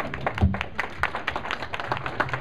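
An audience at the Cinema Wasteland 2011 convention claps in an irregular, moderately dense patter of hand claps, close and continuous with a few heavier thumps and no speech.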